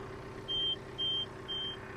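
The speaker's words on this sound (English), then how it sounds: "So when I get off the seat, you'll hear the beeping." A tractor's hitch assist warning chimes after the operator leaves the seat: three evenly spaced, steady electronic beeps over a low background hum.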